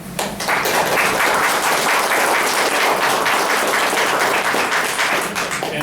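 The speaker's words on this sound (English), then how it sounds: "our tribal council, Chairman Gilbert, they deserve a round of applause for making this happen" Sustained applause from an audience at a tribal community meeting, honoring the tribal council and its chairman; dense, steady clapping fills the room throughout with no talk over it.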